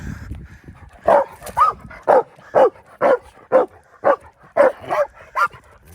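A dog barks in a steady series of about ten sharp, close yips and barks with whining whimpers mixed in, loud and clear with no talking.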